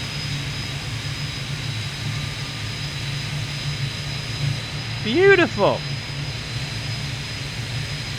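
Carenado Do228 twin-turboprop engine running in Microsoft Flight Simulator, a steady low drone with a high whine throughout, as someone speaks briefly partway through.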